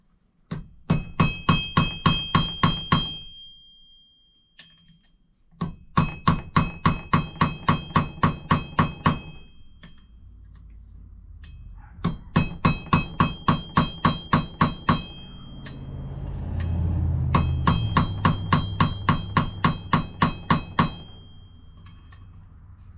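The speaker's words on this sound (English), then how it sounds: "So let me get the holes drilled and we'll rivet them on there." Rivets being hammered into a hunting knife handle: repeated bursts of sharp metallic hammer blows in quick even rhythm, four runs separated by short pauses, close and loud with ringing tones.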